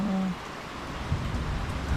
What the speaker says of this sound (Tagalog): hinabot tayo ng ulan dito, natrap tayo sa loft